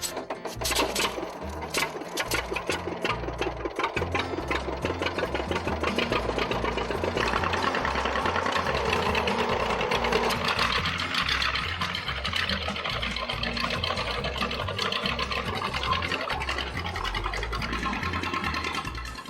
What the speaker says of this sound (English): Bill and his pals get each tractor started.